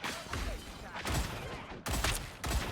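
Faint bursts of gunfire in the video game Marvel Rivals crackle in a few short volleys under a quiet, noisy background.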